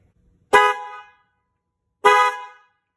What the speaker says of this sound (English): Now I'm going to hit the horn again,